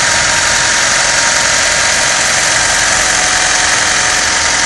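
A 1999 Honda Civic with a 1.6 L four-cylinder engine idling up close, a loud, steady, even rumble with no breaks.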